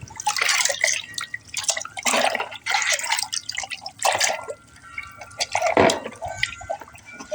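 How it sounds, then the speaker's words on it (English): Fingers swish through a container of cold water while a solar light part soaks, giving loud, close, irregular splashes and drips with brief pauses between movements. "Just wiggle my fingers around in there a little bit. Just get it all nice and wet."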